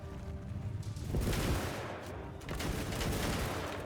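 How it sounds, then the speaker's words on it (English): Massed musket-style gunfire from troops in Mount & Blade II: Bannerlord, a dense continuous fusillade of overlapping shots with volleys swelling and fading, loud and filling the whole stretch. "everyone just fucking fire at will"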